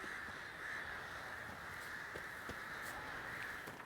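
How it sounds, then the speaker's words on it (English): Crows caw repeatedly in The Witcher 3 video game, several short harsh calls scattered across a steady ambient game soundscape, moderately distant and fairly quiet. "Lots of crows"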